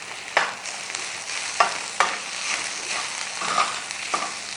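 Onions stirred with salt, chili and turmeric in a pan, a spoon scraping and tapping the metal at irregular intervals over a soft continuous sizzle, close up.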